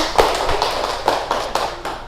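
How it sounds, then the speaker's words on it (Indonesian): A classroom of pupils claps during a microteaching lesson: a few scattered, soft hand claps and taps, irregular and sparse, against a roomy background. "Tepuk tangan."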